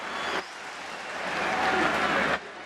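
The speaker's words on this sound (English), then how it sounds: "listen to that roar from the crowd" Stadium crowd at an Inter football match swelling into a sustained roar, building steadily and loud for about two seconds before cutting off.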